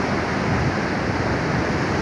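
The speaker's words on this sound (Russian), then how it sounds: "Это водопад. Панорама водопада." Steady, dense rush of a waterfall at Iskanderkul, Tajikistan, a continuous broadband roar with no breaks, close and fairly loud.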